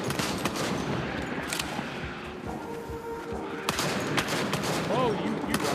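Dense gunshots and heavy firing in the VR zombie shooter Arizona Sunshine, rapid bursts and thumps layered over constant game noise, with players talking throughout.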